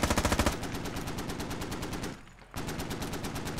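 Rapid automatic gunfire from the military shooter game Squad, loud and close, firing in a steady burst with a short gap near the end before the shooting resumes.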